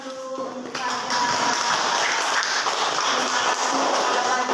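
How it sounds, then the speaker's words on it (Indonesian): A classroom of students claps together after a teacher's cue, dense steady clapping starting after a brief pause and holding loud and even to the end. "Beri tepuk tangan dulu untuk kalian."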